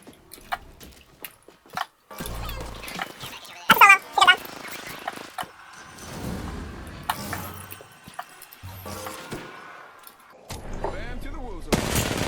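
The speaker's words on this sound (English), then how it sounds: "Shots fired." Video game gunfire in a battle royale match, sharp close shots and bursts scattered through the stretch, mixed with other game effects and heard under players talking.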